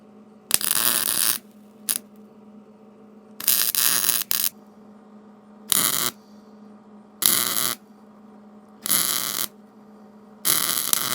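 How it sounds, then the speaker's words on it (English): An arc welder runs short bursts on a crack in metal, seven crackling, buzzing welds of roughly half a second to a second each, close and loud, separated by quiet pauses with a low hum. "we'll get this welded up, and hopefully it makes a nice seal"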